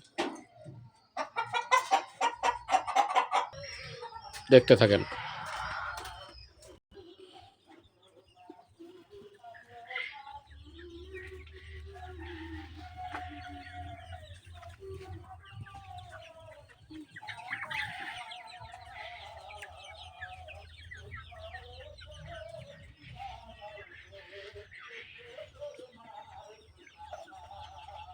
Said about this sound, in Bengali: এখানে সোনালি আছে, ফাউমি আছে, দেশি মুরগি আছে।